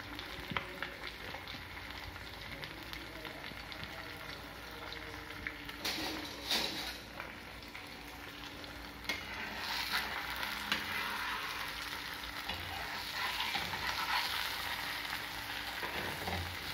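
An egg sizzles and crackles in a frying pan, a steady soft hiss with occasional stirring scrapes and small pops, fairly quiet and close, with no talking.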